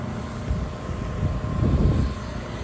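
Steady low droning hum from the 2024 Nissan Pathfinder Rock Creek's 295-horsepower V6 under way, a broad buzzy rumble that swells slightly toward the end, with no talking.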